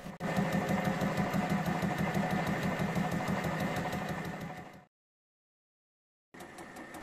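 A lathe faces a model engine cylinder block with a steady, buzzing mechanical drone. It runs loud for about five seconds, cuts to silence, then resumes at the end.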